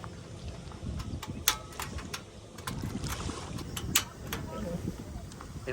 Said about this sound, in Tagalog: Eh, siya malakas ang hangin.